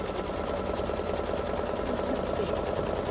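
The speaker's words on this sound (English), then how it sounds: "first thing we're going to do is stitch out where our batting is going" An embroidery sewing machine stitches out the batting placement line, humming with a rapid, even mechanical chatter that holds steady and close throughout.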